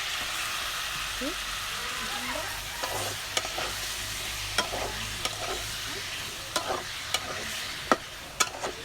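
Meat being stirred into spice paste in a hot pan, with a steady frying sizzle and sharp clinks of a spoon against the pan at irregular intervals, close up.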